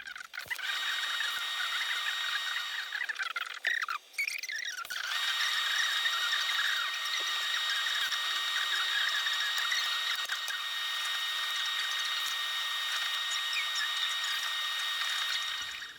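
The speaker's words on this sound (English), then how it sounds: "I think what I'm going to do now is just tack it, put half a dozen tacks in, and if it's all looking okay, clamp it and weld it up" Welding tacks on a part for a 1922 Ner-A-Car vintage motorcycle, a steady close crackling hiss running almost unbroken throughout, with a brief break of handling noise partway through.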